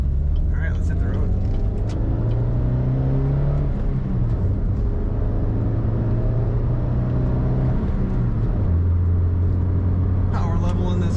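A 2007 Pontiac Solstice with a small engine and 5-speed driving on the road, its engine note rising and falling through gear changes as a steady cabin rumble continues throughout.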